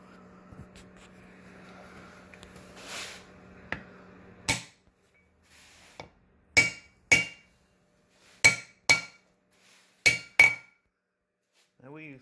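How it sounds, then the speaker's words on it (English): New inner race seal being tapped into a front wheel hub during a wheel bearing job, a series of sharp metallic taps in pairs, close and clear against quiet, after a little low background noise. "now we're inserting the inner race seal"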